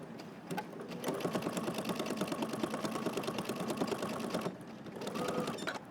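A sewing machine runs a basting stitch on a jacket, a fast even mechanical whir with rapid needle ticks, stopping briefly near the end before starting again, close and clear with no talk.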